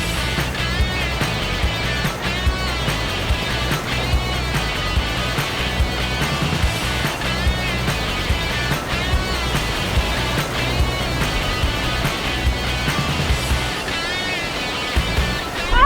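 Loud, continuous roar of surf and churning water at Krui, Indonesia, steady throughout with a low rumbling undertone and no voices.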